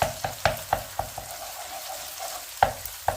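Tomato paste and butter sautéing in a pan, a soft continuous sizzle broken by sharp utensil taps against the pan in an irregular rhythm, close and without speech.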